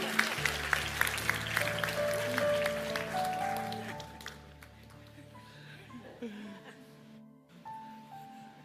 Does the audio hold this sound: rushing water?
no